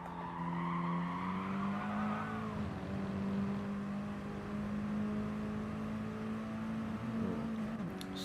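Mini Cooper Cup race cars at Sardegna circuit run flat out down a long straight, with sustained engine drones shifting in pitch as the cars pass, heard at a moderate distance with no talk.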